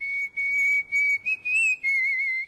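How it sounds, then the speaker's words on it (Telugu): A person whistles a sustained, wavering melodic tune in short connected phrases, close and clear, with brief gaps between notes and no talking. "ఏ విజిల్ అంత బాగుందా?"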